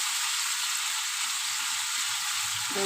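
Masala paste sautéing in a pan for a homemade fish curry gives off a steady, close, even sizzle that holds without pause, with no voices.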